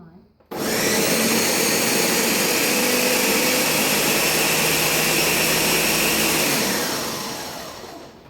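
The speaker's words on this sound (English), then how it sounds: "let's give this a whiz in the Ninja" A Ninja blender blitzing cauliflower, switching on abruptly into a loud, steady high-pitched whirring roar that holds for about six seconds, then winds down as it slows to a stop.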